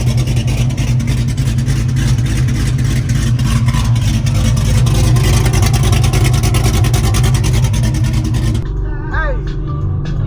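A loud, raw Corvette ZR1 engine with its exhaust chopped off rumbles and pops continuously from inside the car, a harsh low drone that suddenly drops near the end as a short whine appears.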